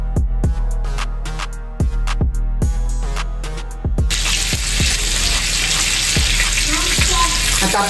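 Pomfret fish frying on a tawa gives a loud, continuous sizzle and crackle, broken by several sharp taps and clinks of utensils, with the sizzle becoming brighter and fuller in the second half.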